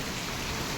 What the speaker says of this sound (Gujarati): રાણપુરમાં આવ્યો ફૂલ વરસાદ હો ભાઈ.